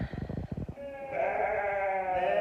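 Sheep bleat close by in a pen of ewes and lambs during lambing season, one long wavering call following a quick rough burst, with no talk.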